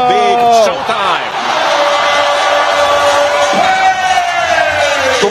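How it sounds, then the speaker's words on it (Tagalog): Basketball fans at a PBA game between Magnolia and San Miguel Beer roar and shout loudly in a packed arena. Rising whoops and sustained cheering fill the crowd noise. "Tumatakbo pa lang siya, sumisigaw na yung mga fans ng Magnolia."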